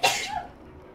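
A single sharp sneeze bursts out close by, loud at the start and quickly trailing off into quiet.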